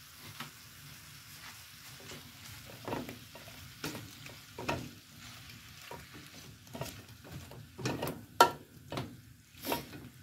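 Sausage frying in a pan, a soft low sizzle broken by repeated scraping and clacking strokes of a utensil stirring the meat, growing busier and louder toward the end.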